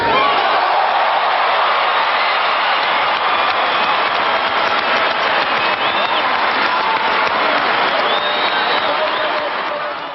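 A crowd at a police academy graduation bursts into sustained applause, dense clapping mixed with cheering that holds steady and loud before tapering slightly at the end, with voices faintly underneath.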